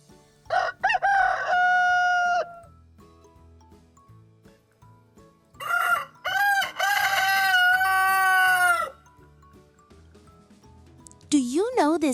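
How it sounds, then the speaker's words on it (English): A rooster on a farm crows three times, loud and close, each call a long ringing cock-a-doodle-doo, separated by quiet stretches with faint background noise. "The rooster is here."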